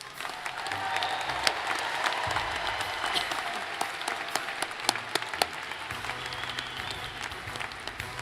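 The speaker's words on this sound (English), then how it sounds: "Please join me in showing our appreciation with a round of applause for their efforts." A crowd applauds steadily for several seconds at a graduation ceremony, dense clapping filling the room with a few sharper claps standing out.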